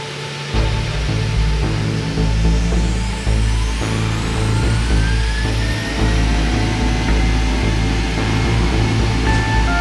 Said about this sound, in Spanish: Los motores rugen, mientras el Boeing 737 se eleva suavemente en el cielo nocturno